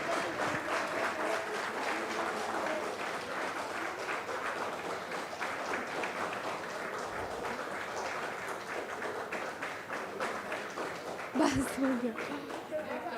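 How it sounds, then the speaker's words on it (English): Sustained, dense applause fills a hall as an audience honours contributors at an international pharmaceuticals conference, continuing evenly for over thirteen seconds, with a brief louder knock or thump near the end. "A big round of applause,"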